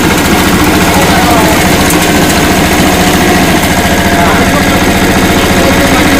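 A farm machine's engine runs in a muddy paddy field, a loud steady chugging drone that fills the whole stretch, with a voice over it.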